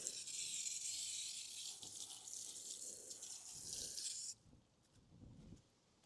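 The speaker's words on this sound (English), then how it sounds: "Now rinse it." Water runs steadily as it rinses rust off a scratched metal panel of a Vego garden raised bed. The flow hisses for about four seconds and then stops, leaving faint splashes and drips.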